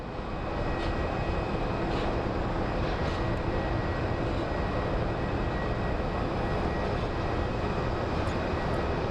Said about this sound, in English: So here comes our little A319. I believe he's coming from Milwaukee.